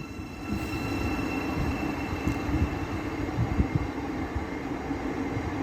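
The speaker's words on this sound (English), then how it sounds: "Got a Great Northern on platform number 3" A Great Northern electric train, units 387111 and 387102, rumbles steadily at platform 3 of Stevenage station, a moderate, continuous hum and rolling wheel noise with light clicks, no voices.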